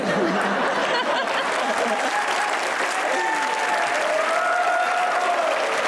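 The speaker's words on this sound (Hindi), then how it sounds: "तुम लोग ऐसे बिलाजे में मत तालियां बजाना शुरू कर दिया करो" A studio audience at a comedy talk show claps loudly and steadily, the applause filling the whole stretch with some laughter and voices mixed in.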